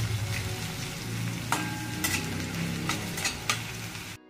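Onion fries in a pan for a Maharashtrian tomato chutney, a steady close sizzle broken by several sharp scrapes and clinks of a spoon stirring, ending abruptly.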